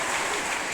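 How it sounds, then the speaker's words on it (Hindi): An audience at an intermediate school in Dibai gives a brief, loud burst of dense clapping in honor of three healthy people. "मैं चाहूंगा इन 3 लोगों के लिए जोरदार तालियां"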